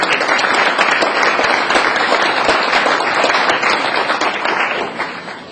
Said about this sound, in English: A big round of applause for both of them